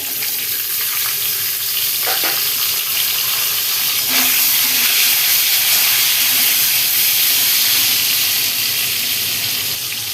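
Potatoes and eggplant sizzling in a pan of hot oil, a continuous close frying hiss with faint stirring touches, no talk.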